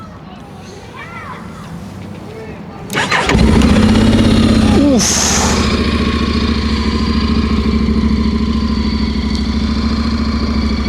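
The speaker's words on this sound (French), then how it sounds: "je vais vous faire un petit démarrage, hein, obligé" A motorbike or scooter engine cranks and catches, then settles into a steady, fairly loud idle that runs to the end, with a brief spoken exclamation at the start.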